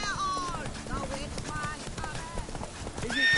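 Roach the horse galloping in The Witcher 3, steady rhythmic hoofbeats at close range, layered with game music and chatter from other characters.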